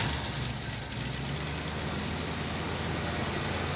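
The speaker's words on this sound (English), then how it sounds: "I'm finding neutral and firing it up." An old car engine idling steadily and fast with the choke on, a continuous low rumble close by with no talk over it.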